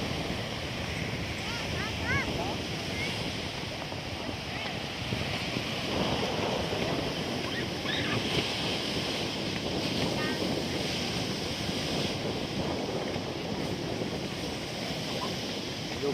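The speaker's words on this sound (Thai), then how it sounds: "ดูคลื่น" Surf rolls steadily onto the sand at Pattaya beach, a constant roar mixed with wind buffeting the microphone, while voices chatter faintly in the background.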